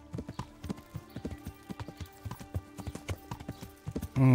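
Horse hooves clip-clop at a steady walking rhythm while riding in the medieval video game Kingdom Come: Deliverance, close and moderately loud, ending with a louder burst of another game sound.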